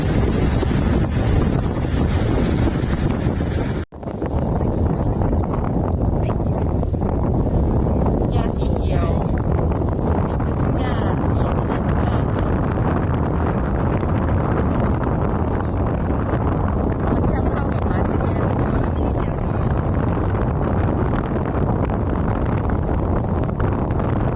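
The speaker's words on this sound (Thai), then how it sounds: "ลมแรงลมแรง" Strong wind roars against the microphone for a long stretch, a dense, loud buffeting broken only by one brief drop-out, with voices faintly underneath.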